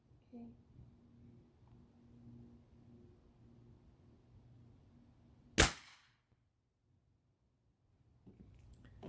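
A Gamo Varmint air rifle fires a .177 pellet with a single sharp, close crack midway through, set among quiet talk and low background hum.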